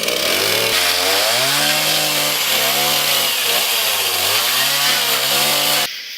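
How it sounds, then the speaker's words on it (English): A chainsaw cuts through a wooden bench, its engine loud and close, pitch rising and sagging as the chain bites into the wood, then releasing at the end. "I'll grab the chainsaw."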